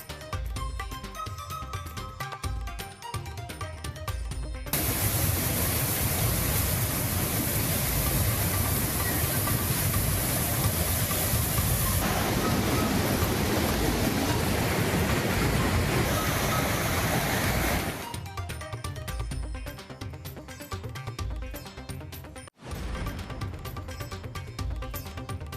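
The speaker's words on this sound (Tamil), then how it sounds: "திருப்பத்தூரில் கனமழையால் ஆர்ப்பரித்து கொட்டும் ஜலகாம்பாறை அருவி" Jalagamparai waterfall near Tirupattur, swollen after heavy rain, roars in a dense broadband rush for about thirteen seconds, with news-report voice and music before and after.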